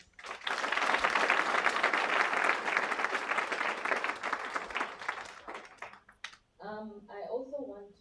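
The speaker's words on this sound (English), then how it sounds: "give the training team another round of applause" Loud, sustained applause from a crowd at a graduation ceremony for several seconds, fading out before a single voice begins speaking.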